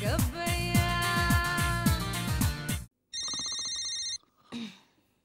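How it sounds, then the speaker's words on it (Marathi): A phone ringtone plays a loud, rhythmic melodic tune for about three seconds, then a high electronic ringing tone sounds for about a second, followed by a brief voice. "फोन घे ना घेतो ना ग"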